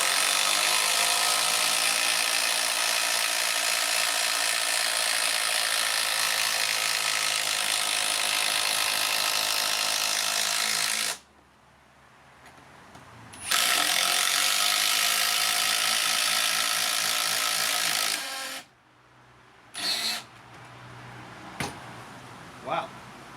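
Hikoki hydraulic impact driver sinking stainless screws, a loud, sustained close whirring hammer run of about eleven seconds, then another after a short pause, followed by a few brief bursts and near silence.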